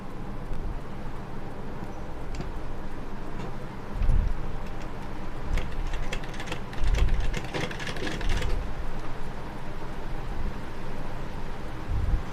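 Sewing machine stitching two neckline pieces of a garment together, a steady faint mechanical whir running throughout with a few soft clicks and bumps from handling the fabric.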